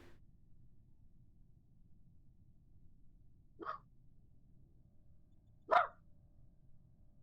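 Puppy barking, two short sharp barks several seconds apart, the second louder, against a quiet low background hiss.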